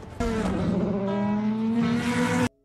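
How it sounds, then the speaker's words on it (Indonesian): A Nissan race car engine roars loud and close, holding a steady high-pitched tone as it accelerates hard for about two seconds, then cuts off abruptly. "Dia menambah kecepatan dan menyalip satu persatu mobil yang lain."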